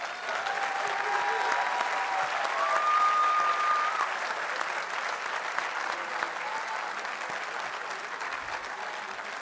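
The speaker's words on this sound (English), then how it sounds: "Let's give him another round of applause." Steady, sustained applause from an audience at a high school commencement ceremony at Cushing Academy, filling the space evenly for several seconds before tapering slightly.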